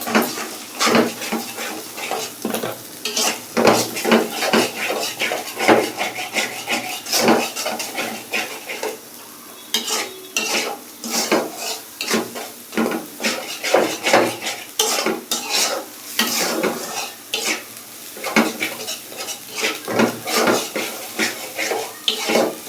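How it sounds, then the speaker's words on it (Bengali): Egg being stirred and scraped in a frying pan with a utensil, a steady run of close metallic scrapes and knocks over a soft sizzle, continuing for a long stretch without speech. "তো ডিমটাকে এভাবে নাড়াচাড়া করে তারপর এটার মধ্যে সামান্য পরিমাণে একটু লবণ দিয়ে দিব।"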